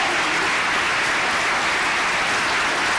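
Audience applause at a school district State of the Schools address, a steady dense wash of clapping that fills the room evenly from start to end with no voices over it.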